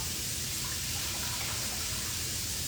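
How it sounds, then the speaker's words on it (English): Water pours from a tap into a soup pot for a Chinese chicken herbal soup, a steady faint rushing gush that stays even throughout with no talk. "I'm gonna add water now to my soup pot"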